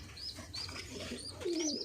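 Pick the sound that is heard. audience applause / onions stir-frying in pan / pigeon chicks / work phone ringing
pigeon chicks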